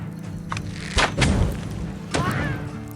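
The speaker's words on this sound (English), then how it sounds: "I'm wondering if I shoot this TNT, can I blow everyone up?" A TNT blast in Legends of Kingdom Rush lands as a dull booming thud, followed by a couple more muffled thumps among light game effects, moderately loud over a low background hum.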